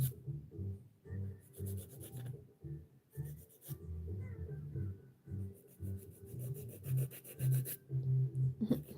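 Fingernails are filed at home with an emery-style file, making quick rhythmic rasping strokes in short bursts with brief pauses, close and fairly soft.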